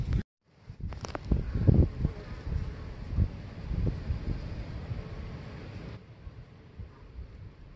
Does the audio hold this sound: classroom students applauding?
no